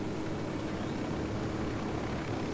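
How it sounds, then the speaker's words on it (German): Helicopter in the open-world shooter Ghost Recon Wildlands, a steady, broad rotor and engine drone holding at constant loudness throughout with no talk over it. "Ah, auch ein Helikopter"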